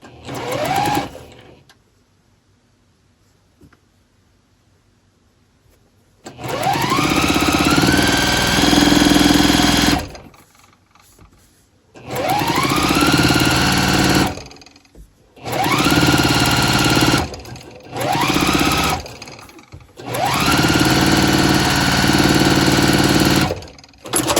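A sewing machine chain-pieces quilt blocks in several loud whirring bursts of stitching, separated by brief quiet pauses as the fabric is adjusted. No one speaks.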